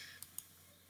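A computer mouse gives a quick double click, two sharp light taps close together over a very quiet background.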